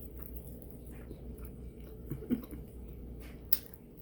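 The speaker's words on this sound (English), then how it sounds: "I'm biting over there" Close, quiet mukbang eating of a sausage grinder sandwich, with soft wet chewing and a couple of sharper bite clicks over a faint background hum.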